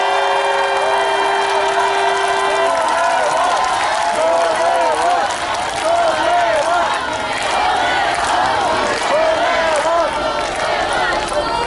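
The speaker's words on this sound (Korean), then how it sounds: "박수 한번 쳐주세요." A big crowd at an election campaign rally at Gwanghwamun on the first day of campaigning roars loudly and steadily, with cheering, shouting voices and clapping blended into a dense wash of noise throughout.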